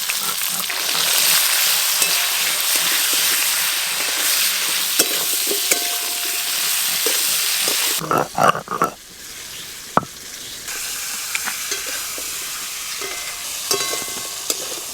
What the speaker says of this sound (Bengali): ওই একই তেলে আমি আলু আর পটল ভালো করে ভেজে নেব